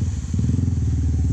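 A cross-country motorcycle engine revs steadily and loudly up close, a throbbing low growl holding for a moment with slight clatter, no talk.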